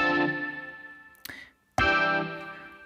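A synth keyboard sound played without a MIDI pitch device: a bright, buzzing sustained tone that fades, cuts off after a short noisy burst, then returns abruptly at full strength and decays again, with no talking.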